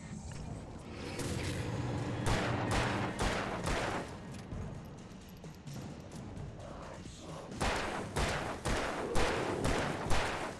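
Repeated bursts of gunfire from the video game Alan Wake Remastered crack out in quick clusters, with several rapid shots, a short lull, then more volleys, fairly loud and alone.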